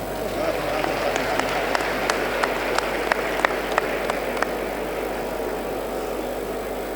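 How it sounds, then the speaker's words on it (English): Brief scattered clapping at a stakeholders summit hall, a handful of sharp claps in a loose rhythm over steady room hum, fading out after a few seconds. "I thought I would hear somebody clap for me"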